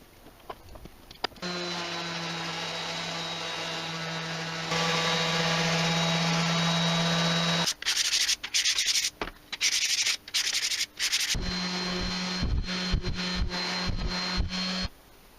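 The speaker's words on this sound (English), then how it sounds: "I took it apart to give it a final sanding before it was all glued up." A power sander hums steadily against figured-wood coffee table parts, stopping and restarting in bursts with scraping and handling noises in between.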